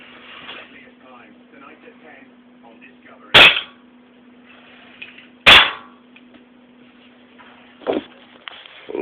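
A CO2-powered Smith & Wesson Sigma 40 BB pistol fires three sharp, loud pops spaced a couple of seconds apart, each with a brief metallic snap, while someone talks between shots over a low steady hum.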